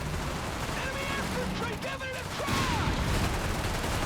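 Gunfire in a Company of Heroes 3 battle, a low, continuous rumble of muffled shots and distant booms with scattered crackles beneath a busy game soundscape.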